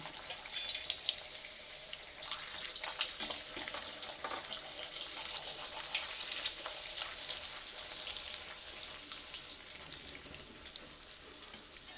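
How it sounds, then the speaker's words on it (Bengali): Potato-stuffed paratha deep-frying in hot oil, a steady bright crackling sizzle with dense popping bubbles running throughout, loud and close with no talk. "তাই আমি ছাঁকা তেলে ভেজে নিচ্ছি"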